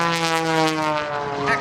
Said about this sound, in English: Working the aircraft through a series of high-speed stalls